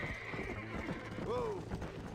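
A horse whinnies over steady clip-clop hooves and a busy Red Dead Redemption game soundscape, the neigh rising then falling in pitch.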